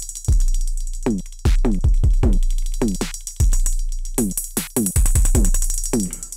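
Dry drum beat from an Elektron Octatrack, heavy booming kicks and crisp snappy hits repeating in a steady pattern, with pitched, voice-like chopped fragments between the hits.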